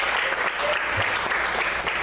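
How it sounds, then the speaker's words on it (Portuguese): Church congregation at an evening service applauds loudly and continuously, a thick, steady wall of clapping from many people. "Aplaude o Senhor bem forte, queridos."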